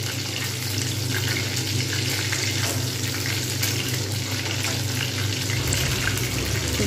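Chicken pakoras fry in oil over high heat, giving a steady, loud, dense sizzle and crackle that runs unbroken for the whole stretch, with no voices.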